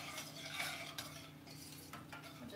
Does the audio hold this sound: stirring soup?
yes